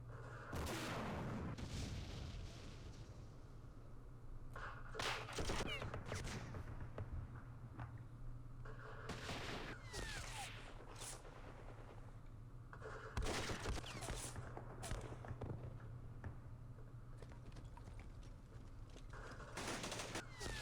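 Gunfire in the wargame Campaign Series Vietnam, during Operation Starlite: faint, scattered bursts of shots and booms at intervals over a low steady hum.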